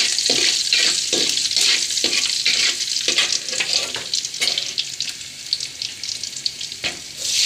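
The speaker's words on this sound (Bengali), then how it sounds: "তরকারি রান্না করতেছি।" Curry frying and being stirred in a pan, a steady loud sizzle broken by repeated scraping stirs at a fairly regular rhythm, close up with no talking.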